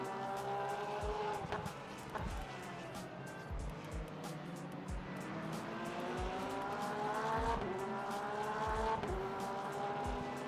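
A Ligier race car in the racing game Le Mans Ultimate at Interlagos, its engine rising and dropping through repeated gear changes with brief tire squeals, steady and close throughout.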